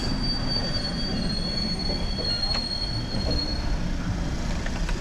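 A train in Sri Lanka rolls steadily along the rails with a constant low rumble, a thin high wheel squeal running through and faint rhythmic clicks.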